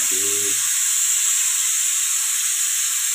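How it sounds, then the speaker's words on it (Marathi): A pressure cooker whistle lets out a continuous, loud, high-pitched steam hiss that holds evenly from start to finish, with a brief low tonal sound at the very beginning. "वाजती कुकरची शिट्टी"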